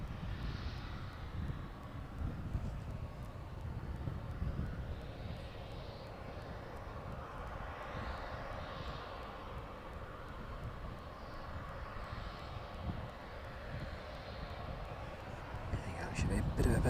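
An airliner lands on runway 27 at East Midlands Airport in the evening, a faint continuous engine rumble with a low wash of noise, under intermittent nearby talking.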